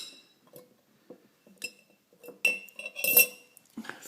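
Small metal parts clink and rattle in a pot as a hand rummages through them during a Roland Juno-106 synthesizer repair, with scattered light taps building to a denser cluster of close, bright jingles.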